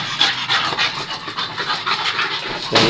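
Rapid, breathy panting close up, a dog huffing in quick steady rhythm for a few seconds while dogs play with a puppy.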